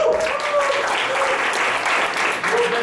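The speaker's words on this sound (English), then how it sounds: "can you help me round of applause to Mike Esque?" A business presentation audience claps in a round of applause for a presenter, a loud, dense spatter of hands with whoops and cheering voices mixed in over the short burst.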